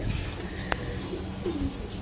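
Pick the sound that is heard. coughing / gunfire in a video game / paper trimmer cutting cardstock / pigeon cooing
pigeon cooing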